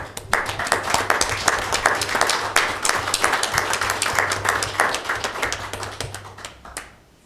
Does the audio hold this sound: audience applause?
yes